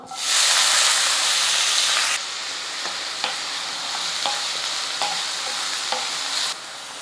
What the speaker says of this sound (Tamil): வெங்காயம் வந்து நல்லா இந்த அளவுக்கு கொஞ்சம் கலர் மாறுற அளவுக்கு நல்லா வதங்கணும்